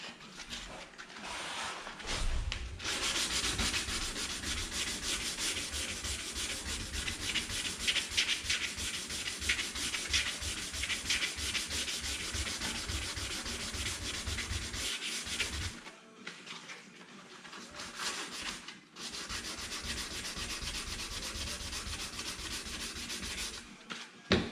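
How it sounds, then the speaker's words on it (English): A car bumper is hand-sanded for scratch and gouge repair ahead of primer, making steady, close rasping strokes in a continuous rhythm, with a short pause early on and another gap around the two-thirds mark. "we're going to go ahead and sand this the same way"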